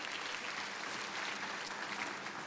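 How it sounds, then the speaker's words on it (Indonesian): Steady, full applause from a church congregation during a service, dense clapping that stays loud and even throughout. "Kita tepuk tangan yang paling meriah bagi dia."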